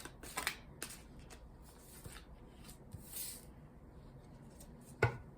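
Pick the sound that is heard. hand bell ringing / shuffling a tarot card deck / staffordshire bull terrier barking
shuffling a tarot card deck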